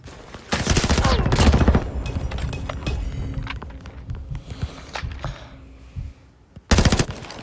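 Bursts of automatic gunfire from an MX9 in a video game, rapid loud volleys at the start, then scattered shots and clatter, and another sharp burst near the end.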